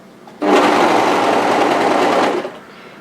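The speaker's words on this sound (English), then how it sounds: "So what you do is, as normal, just overlock towards the corner." An overlocker (serger) runs steadily on knit fabric as it stitches toward an internal corner, a loud, continuous whirring buzz lasting about two seconds with a sharp start and a tapering stop, no voices.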